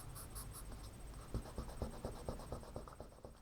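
A pencil scratches a rough sketch of a nose on paper, close and soft, with a series of quick, irregular strokes.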